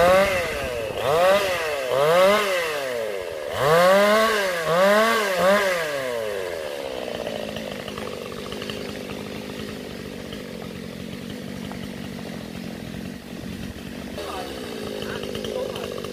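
Chainsaw cutting branches of a large Sao tree during stormy rain, loud revving bursts rising and falling several times, then a steadier idle drone under rain noise.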